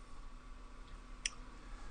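A single sharp computer mouse click, brief and close, standing alone against a faint steady background hum.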